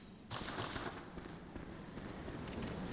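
A Molotov cocktail thrown in the video game Bloodborne bursts with a sudden loud whoosh, then a crackling, roaring burn that sustains for a few seconds.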